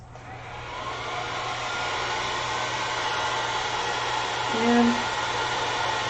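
A continuous roaring rush of blown air, like a hair dryer, plays over alcohol ink artwork, rising slightly and holding steady throughout, with a brief bit of speech near the end.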